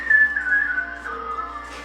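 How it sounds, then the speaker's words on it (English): A man whistles a steady high tune, the notes held and sliding slightly, clear and fairly close, fading a little toward the end with no talking over it. "We're gonna get copyright for a guy whistling"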